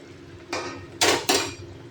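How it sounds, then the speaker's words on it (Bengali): Pubda fish with chopped tomato, turmeric and salt is stirred gently in a pan, giving a few short, close clatters and scrapes of the utensil against the pan over a faint background. "এবার হালকা করে একটু নাড়াচাড়া করে নেব"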